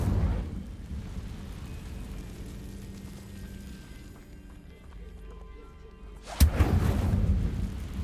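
A fire spell, Incendio, is cast in a Hogwarts video game, a sudden loud whooshing burst near the end that follows a stretch of low rumbling ambience and footsteps.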